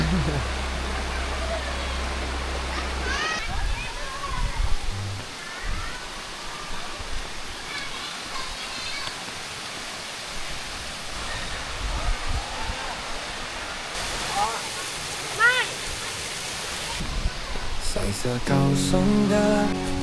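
Steady rushing water from a waterfall at Khlong Kaeo National Park in Trat, Thailand, a constant broadband roar with people talking over it at times.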